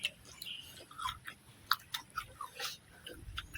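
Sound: chewing crunchy fresh shrimp with Mama noodles

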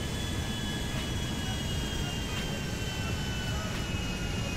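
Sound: airplane landing on runway, from video game GTA 5

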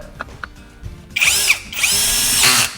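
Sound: Masaru electric drill driving a screw tight on a chainsaw

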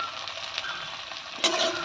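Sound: frying drumstick vegetables with salt and turmeric

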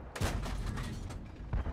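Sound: tank gunfire in World of Tanks video game

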